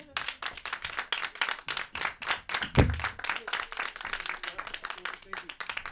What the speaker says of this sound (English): keep it clapping for my guy, John Gardner